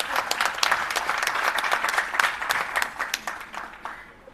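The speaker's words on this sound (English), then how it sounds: "Yes, you can cheer for that." Conference audience applauding steadily, a dense clapping wash that thins toward the end.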